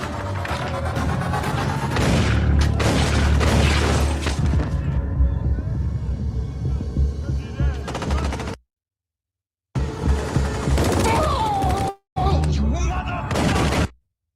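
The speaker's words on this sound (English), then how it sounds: "Tommy kept shooting this nigga Diamond, man." Bursts of gunfire from a TV drama shootout, shots fired repeatedly at a man, loud and dense at first, then thinning out with short gaps and brief dropouts toward the end.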